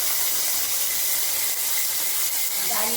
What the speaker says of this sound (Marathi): कढीपत्ता घातला, लसूण घातली आणि तेल टाकलं थोडं। तर फोडणी देणार